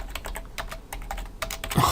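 Quick bursts of keystrokes clatter on a computer keyboard, close and fairly soft, in uneven runs with short pauses between them.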